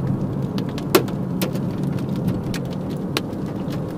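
Rain with hail falling during a storm on a trip out of town, a steady dense patter with a few sharp louder impacts cracking through, close and fairly loud, no voices.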